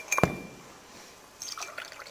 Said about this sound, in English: We're going to add some sulfuric acid, which is also necessary for a lead acid battery.